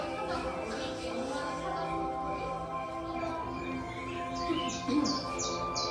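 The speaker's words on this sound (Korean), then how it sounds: "와, 앵무새 본다. 앵무새." A parrot gives a few short chirps at the Jurung Jurung indoor zoo in Yeongdeungpo, the calls sparse and fairly faint, clustering near the end over a low room hum with people talking.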